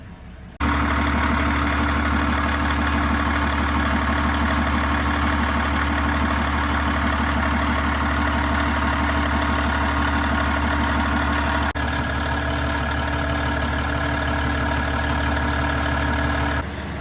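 A boat's engine idles steadily at close range, a loud, even low drone with a constant hum that holds unchanged for the whole stretch, with no voices over it.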